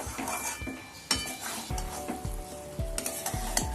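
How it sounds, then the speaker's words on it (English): A spoon stirring a mixed dal and grain khichdi porridge in a pot with ghee, giving repeated knocks and scrapes against the pot over a soft sizzle, close and fairly loud, with no talking. "And mix everything together."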